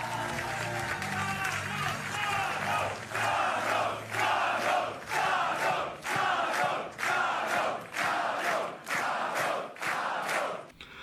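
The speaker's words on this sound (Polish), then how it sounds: "Rzeczypospolitej Polskiej Karol Nawrocki, ogromne brawa!" A large crowd at a Polish political rally for Karol Nawrocki cheers and chants in rhythmic bursts, roughly one per second, loud and sustained, with applause mixed in.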